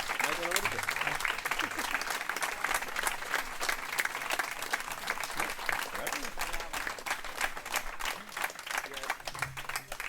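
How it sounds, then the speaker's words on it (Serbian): An audience applauds a music trio at a live village performance at Brje pri Štirni. The clapping is dense and sustained from a nearby crowd, with some voices mixed in. "Res so si zaslužili vse te aplauze."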